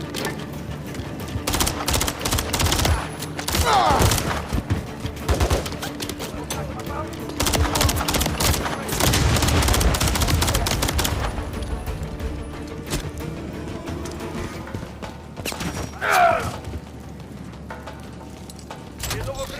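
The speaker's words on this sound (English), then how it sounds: "There's enemy fire." Call of Duty Modern Warfare 3 gameplay on PS5 with bursts of automatic gunfire and single shots, loud and close, mixed with game effects and music, while a voice speaks over parts of it.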